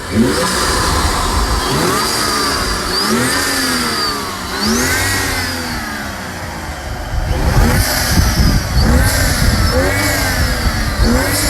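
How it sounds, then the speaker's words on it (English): A car engine fitted with a cold air intake revs up and down repeatedly with a deep, throaty intake roar, loud and close, the pitch climbing and falling in waves. "so you just enjoy the intake how it sounds"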